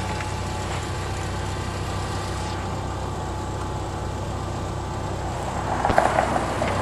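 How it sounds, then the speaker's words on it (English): Hyster S50FT cushion forklift engine running at a steady idle-like hum, close and even throughout, with a brief clatter and rise near the end. "He's going to operate the forklift for us."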